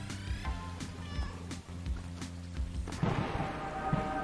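A cat meows repeatedly inside a video game, several short mewing calls over a looping soundtrack, followed by a noisier passage with scattered chirps near the end.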